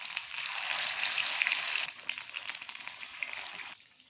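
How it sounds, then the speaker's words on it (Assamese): Marinated chicken pakora pieces drop into hot oil and burst into a loud, bright hissing sizzle that settles into steady crackling bubbles, then drops off sharply near the end. "গৰম হ'বলৈ দিয়া তেলখিনিত এইটো চিকেনখিনি দি দিলোঁ"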